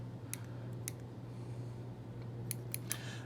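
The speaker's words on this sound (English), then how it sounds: "you can kind of trim out, a few of these wayward fibers." Small scissors snip stray white EP fibers on a baitfish fly at the tying bench, several quick, sharp cuts at irregular intervals over a steady low hum, close and alone.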